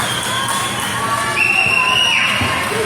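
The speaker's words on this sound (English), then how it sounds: "Again, cheers from the crowd. They're loving it here." A crowd at the All Sports Arena during a hockey bronze medal game cheers and shouts, with whistles and shrill voices rising over a steady arena din.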